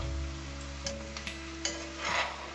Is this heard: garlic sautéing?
yes